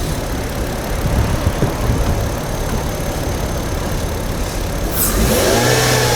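A Mercedes W211 with a 2.4 engine revs steadily and close by, a full, even engine roar running throughout with a slight rise near the end and no talk over it.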